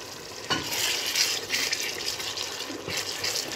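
Vegetable soup being stirred in a pot, a wet, sloshing swirl of liquid with a few soft knocks of the spoon against the pot, steady and fairly close with no talking.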